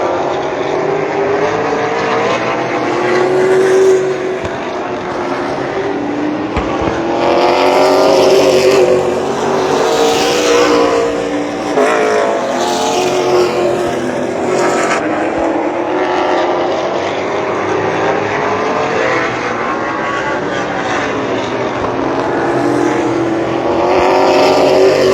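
Late model race cars racing at Shasta Speedway, a continuous loud roar of several engines with rising and falling pitch as cars pass close by, steady throughout with no voices.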